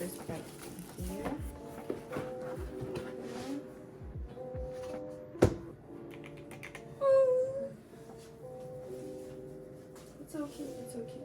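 A pink Yunzii mechanical keyboard is typed on in scattered clusters of crisp keystrokes, with a louder clack midway, set against a tonal background bed.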